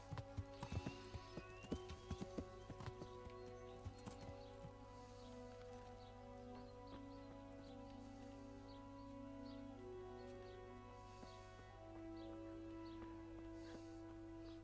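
Horse hooves clip-clop in an irregular patter during riding in the medieval video game Kingdom Come: Deliverance, fading out as a steady ambient game soundtrack with faint bird calls carries on underneath; no speech.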